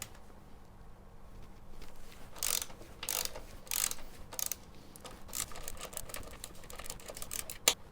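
Ratcheting and clicking of a hand tool loosening fasteners on a Yamaha TZR motorcycle being stripped down, with repeated short ratchet bursts, close and fairly quiet.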